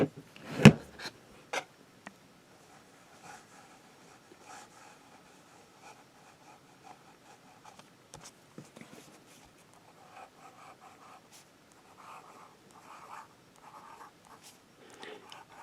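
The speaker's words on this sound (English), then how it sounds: "And we'll do some writing with it." Soft, close scratching of a Pelikan Classic M205 fountain pen with a medium nib writing on Rhodia dot paper, a quiet steady scribble with a few faint knocks near the start.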